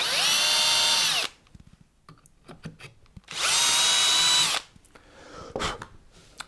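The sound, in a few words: power drill drilling into wooden guitar neck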